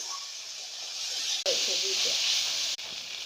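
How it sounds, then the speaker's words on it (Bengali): Vegetables such as drumstick, carrot, eggplant and tomato, with salt, turmeric and green chilli, frying in a pan, a steady hissing sizzle broken by two brief cuts, with a faint voice in the background. "সবজিটা একটু ভেজে নিব"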